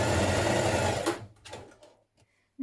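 Sewing machine stitching a dress seam, a steady dense mechanical whir for about a second before cutting out, followed by a few faint handling sounds and a brief restart at the end.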